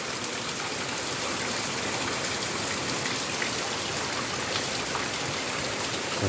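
Rain falling steadily in sunshine, a dense continuous hiss of drops on surfaces, even and unbroken throughout with no voices.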